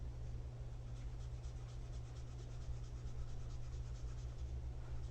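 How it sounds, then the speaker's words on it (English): A Prismacolor Premier artist marker scratches steadily across paper during coloring, a faint continuous rubbing texture under a constant low hum, with no talking. "I hope the scritchy scratchy of the marker is not a sound that bothers you."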